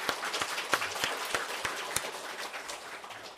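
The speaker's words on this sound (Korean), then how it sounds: "찬양대회 위해서 박수 한번." Congregation applauding the choir in a church service: a moderate, steady wash of many hands clapping with a few sharper claps standing out, heard from across the sanctuary.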